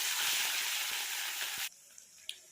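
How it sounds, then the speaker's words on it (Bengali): Onion paste frying in oil with nigella seeds, a loud, steady close sizzle that cuts off abruptly, followed by a few faint clicks. "ওই তেলে একটু কালো জিরা ফোড়ন দিয়ে পেঁয়াজ বাটাটা দিয়ে দেব"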